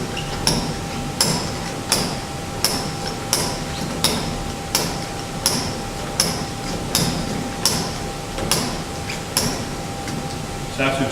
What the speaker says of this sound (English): you're going to do 25 blows from the hammer